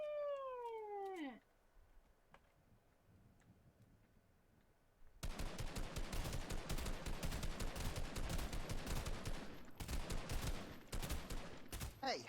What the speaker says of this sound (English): Not allowed to shoot me like that.